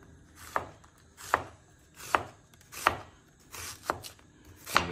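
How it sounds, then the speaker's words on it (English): Knife slicing an onion thinly for a cucumber salad, six evenly spaced crisp cuts against a board at a slow, steady rhythm, close and clear with no talking. "I like to cut the onion with a slice, so we'll have a really thin slice of the onion"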